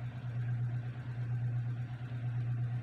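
A small washing machine's faulty motor hums steadily but cannot turn, producing a close, low electrical drone with a faint pulsing flutter and no speech.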